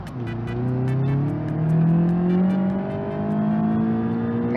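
A Covet car engine in the BeamNG video game revs hard and rises steadily in pitch while accelerating toward a jump, loud and close, with gear changes and no talk.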